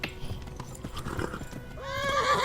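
A horse in the video game Kingdom Come Deliverance, its hooves clip-clopping in a quick galloping rhythm before a loud whinny rises near the end, close and clear with a little faint talk.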